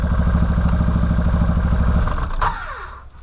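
A 2013 Ford Maverick engine held at full throttle yet short on power, a steady loud drone with a rough pulsing rhythm that holds for over two seconds, then cuts off sharply and fades away.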